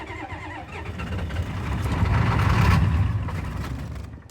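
A 1996 Ford 7.3-litre diesel engine in need of a top-end rebuild cranks loudly and steadily, the rhythmic chugging swelling as it nearly catches, then fading without fully starting.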